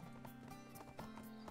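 A horse mount in the ArcheAge game trots with steady clip-clop hoofbeats, a brief whinny-like tone mixed in, over continuous background game music.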